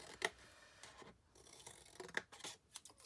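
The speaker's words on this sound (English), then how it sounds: "I'm just going to cut those corners as well. It just makes them a bit easier to fold in." Scissors snipping the corners of paper for an exploding box craft, a few quiet, sharp cuts spaced irregularly over a hushed background with no talking.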